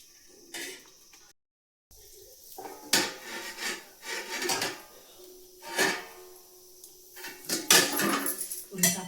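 Thalipeeth cooking on a pan and flipped over, with scraping, clattering metal-on-pan knocks and rubbing in repeated bursts, close and moderately loud, with no talk over it.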